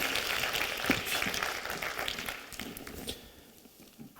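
A conference audience applauds a speaker at a Swiss marketing event, a steady moderate clatter of many hands that slowly thins and fades toward the end.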